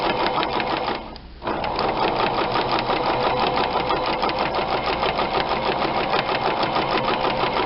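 A sewing machine sews a straight stitch at stitch length 2, a loud, steady, rapid mechanical chatter that runs close and continuous. It pauses briefly near the start and then carries on evenly, with no talk over it.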